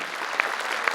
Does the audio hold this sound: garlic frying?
no